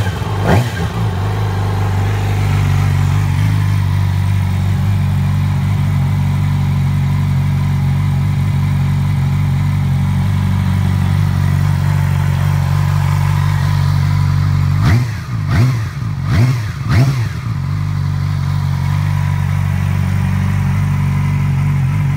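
A 2009 Yamaha YZF-R6 600cc four-stroke sport motorcycle with auto choke and electric start starts up and idles close by, a steady low hum interrupted by a few sharp throttle revs near the end.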